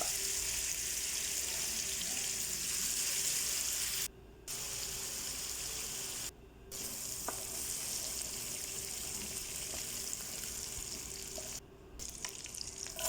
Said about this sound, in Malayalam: മറ്റൊരു പാൻ അടുപ്പിൽ വെച്ചിട്ട് കുറച്ച് ഓയിൽ ഒഴിച്ചിട്ട് അതിലേക്ക് ചിക്കൻ വറുത്ത് ഊരുക